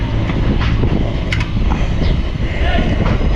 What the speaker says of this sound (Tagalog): Medyo malakas lang po ang hangin.